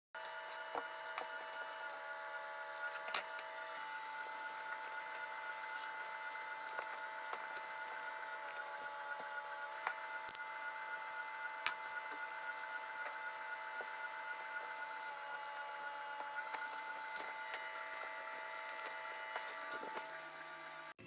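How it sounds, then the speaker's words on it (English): A DTF printer runs at a print shop with a steady mechanical whir and tonal drone, broken by periodic sharp clicks as the head moves. It is fairly quiet and continuous, with no voices. "So while the DTF print is printing, we'll hoop the jackets up now."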